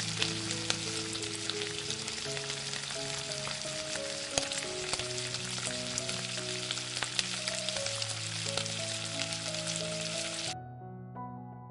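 Tangra fish frying in hot oil, a steady dense sizzle and crackle close by, continuous throughout with soft background music and no talking, the sizzle cutting out just before the end.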